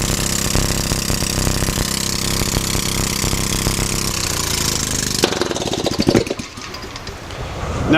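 A small hydrogen-fueled engine roars loudly and steadily, then the pitch changes abruptly and it sputters unevenly toward the end.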